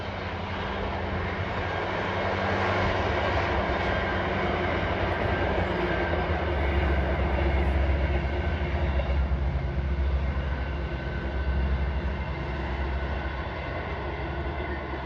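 A two-unit Leeds–Wigan passenger train rumbles past steadily for the whole stretch, a loud broad roar with low grinding hum, nearby and continuous without pause.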